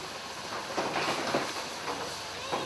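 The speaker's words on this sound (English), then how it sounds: "That choo-choo train." A steam train on the Severn Valley Railway passes with rolling wheel rumble, hissing steam and scattered clanks, moderately close and steady throughout.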